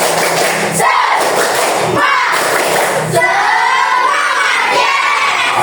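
Children in a classroom perform a rhythmic spirit clap, a loud burst of claps and thuds mixed with shouting voices that repeats in several pulses across the whole stretch.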